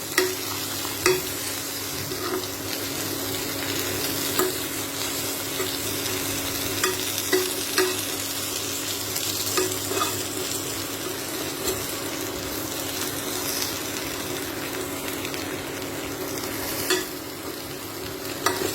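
A potato mixture seasoned with chaat masala is stirred and mixed in a frying pan over a steady sizzle, with a spoon scraping and knocking against the pan now and then, close up and without speech.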